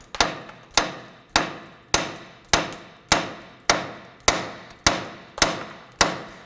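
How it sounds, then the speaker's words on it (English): A hammer strikes a front strut assembly on a 2008-2011 Ford Focus, driving it down out of the steering knuckle: about ten sharp metallic taps at a steady, even pace, close and loud, with no talking. "we're going to go ahead and just use our hammer and go ahead and tap this down"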